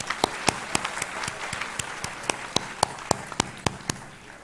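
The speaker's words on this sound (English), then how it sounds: "let's have a round of applause for all of you as well" Light, thin applause from an audience at an HR panel event, with sharp individual claps standing out in an irregular rhythm over a soft background wash.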